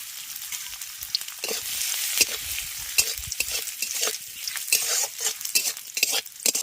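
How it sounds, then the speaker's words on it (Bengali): Grated coconut, cashews and chopped raisins fry in hot oil with a bright, steady sizzle, punctuated by stirring scrapes and soft pops that rise and fall as the pieces are moved around the pan. "এবার তেলের মধ্যে আমি দিয়ে দিচ্ছি নারকেল কাজু বাদাম আর কিশমিশ কুচি প্রথমে এগুলোকে ভেজে নেবো"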